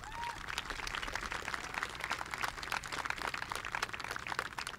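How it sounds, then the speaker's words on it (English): A high school graduation crowd claps, a faint, distant and continuous scatter of hands that fills the space evenly. "Let's give them a round of applause, graduates"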